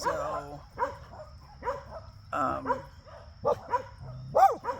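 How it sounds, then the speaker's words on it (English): A dog barks and yips close by, giving about seven short, sharp calls in an irregular rhythm, some rising into whiny yelps, with light room noise between them. "Gage, I can't think when you bark. Please don't"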